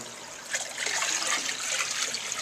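Clean, cold tap water poured slowly into a trout tank, a continuous bright trickling and splashing stream that swells slightly midway, heard on its own without speech.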